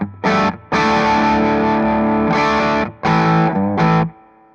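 Electric guitar through a Warm Audio Throne of Tone overdrive into an Orange Rockerverb 50 crunch channel, with reverb, played into a cabinet miked by two SM57s. It rings out as loud, crunchy sustained chords in several bursts, then decays into silence.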